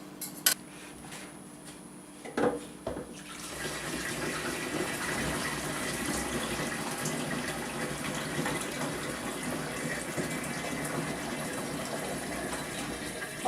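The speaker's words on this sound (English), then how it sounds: "we are going to start adding water until it's about up to here" Warm water at about 100 to 105 degrees pours steadily into a home-brew container, a brief clink and knock first, then a continuous gushing fill that stays even and close for about ten seconds.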